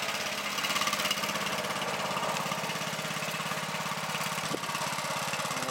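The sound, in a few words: riding lawn mower engine running, cold start in snow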